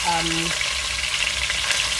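Steady, dense sizzling of turkey neck frying in hot oil, with a brief tonal clink at the start, continuous and close throughout.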